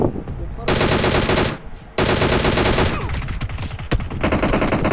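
Automatic gunfire in the mobile battle royale game PUBG Mobile, loud rapid bursts close by that stop briefly and then resume, with fainter scattered shots between them.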